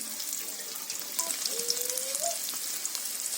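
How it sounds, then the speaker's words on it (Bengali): Chopped onions and green chillies sizzle steadily in hot oil, a close, continuous hiss with brief watery crackles and a faint tonal squeak midway. "পাটের শাক রান্না করার জন্য এখন গরম তেলে পেঁয়াজ কুচি, কাঁচামরিচ কুচি"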